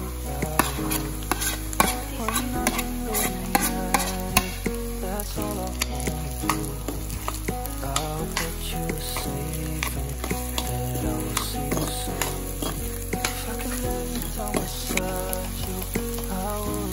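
Potatoes fry in a pan for a home-cooked bread pakora filling, a loud continuous sizzle with repeated scraping stirs and utensil knocks against the pan, no talking.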